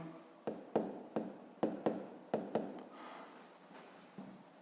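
Handwriting on paper gives a series of about eight sharp, close scratchy strokes in an uneven rhythm, then softer, fainter scribbling trailing off at the end.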